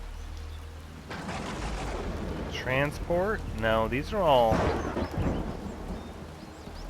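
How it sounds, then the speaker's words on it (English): Rain and thunder in the survival game Empyrion Galactic Survival, a steady rain-like wash with low rumbling throughout, under a man's close, continuous voice. "I probably shouldn't be just standing out in the rain."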